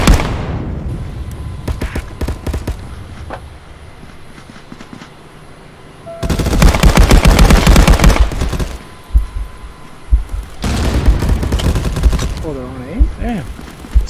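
Bursts of automatic gunfire in the Contractors VR shooter game, with dense sustained volleys of rapid shots around the middle and near the end, over background game noise, with players talking.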